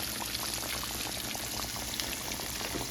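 Battered Southern-style chicken sizzles in hot frying grease, a steady, close crackle and bubbling hiss with tiny popping spatters throughout and no voices over it.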